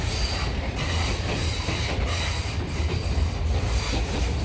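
A train rolls along rails in Sri Lanka, giving a loud, steady rumble and rattle with wheel squeal and faint rhythmic clacking, heard from close by inside or beside the carriage.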